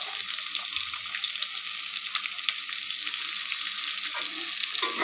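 Raw onion frying in a pan for a magur fish curry with sidol, a dense, steady, close sizzle throughout with small pops and no talking.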